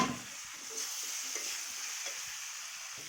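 Potatoes fry in a pan with a steady close sizzle and hiss while being stirred, with faint scraping under the frying.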